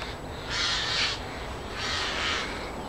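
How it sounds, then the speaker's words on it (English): Crows caw raucously around an allotment garden in March, two loud harsh bursts of calls spaced about a second apart over a steady outdoor background, fairly close and with no talk. "Birds are going nuts."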